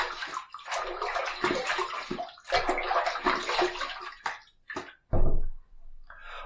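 Water splashes as lather is rinsed off a face after a wet shave, in bursts of running and sloshing water broken by short pauses, close and fairly loud.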